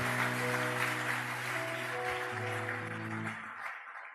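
A church congregation applauds during a French-language worship service, a steady wash of clapping that fades out toward the end while sustained keyboard or organ chords ring underneath.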